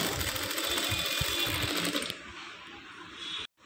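Sewing machine stitching pleated blouse fabric, a steady close whir running continuously for about two seconds, then a lighter mechanical hum before a brief stop near the end.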